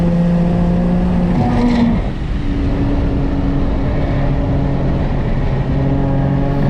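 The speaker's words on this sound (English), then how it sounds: "The differential in this car, you're going to be listening to it quite a bit as I go around through here trying to lay down some power" Nissan 370Z NISMO engine and differential on the Sonoma race track, a loud, close, sustained tonal drone that climbs in pitch, drops at a gear change, then climbs again under acceleration, with a whining differential throughout and no talk.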